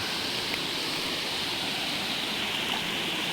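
Waterfall swollen after Typhoon Tino, a steady broadband rush of falling water, close and even throughout with no voices.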